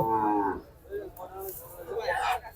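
Cattle moo at the Chandimura cattle market ahead of Qurbani, with a long low moo followed by several shorter calls nearby as faint voices murmur underneath.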